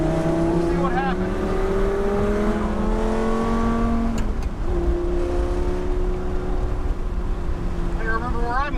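Lamborghini Gallardo lapping Atlanta Motorsports Park, its engine note climbing through gears, dropping on a shift, then pulling again, loud and close with steady wind rush throughout.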